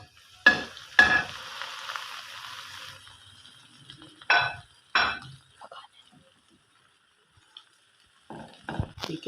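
Eight slices of bread cut into small pieces fry in ghee for bread halwa, with close bursts of stirring and scraping and a sizzle, separated by quiet gaps.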